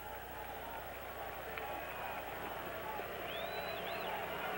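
A homecoming crowd of about 36,605 fills a college football stadium at a 1985 NC State at Pitt game, a steady broad roar and murmur sustained throughout with faint whistles rising above it.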